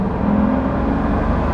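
A Pagani Huayra hypercar under acceleration, its engine and transmission giving a loud, steady whirring drone with a low rumble from behind the cabin, heard briefly and close without talk.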